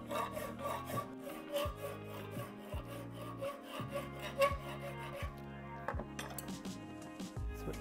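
Hand filing of a metal bicycle brake lever during framebuilding, a steady series of rasping back-and-forth strokes, close and fairly loud, with no talking.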